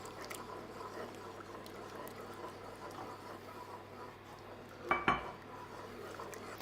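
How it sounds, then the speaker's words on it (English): Gelatine stirred into hot liquid in a pan, faint quiet scraping and swishing with two sharp metallic clinks of a utensil against the pan near the end. "And then you stir it in the hot liquid and it literally just melts in."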